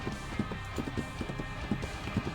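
Horse hooves gallop in a steady clip-clop rhythm through a video game scene in Reverse: 1999, the thuds close and moderately loud over a continuous background music bed.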